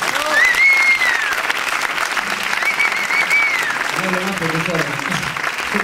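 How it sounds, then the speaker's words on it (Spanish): Loud, sustained audience applause at a presentation event in Ceutí, a dense crowd of clapping hands with cheers and shouts rising over it. "Otro aplauso por eso."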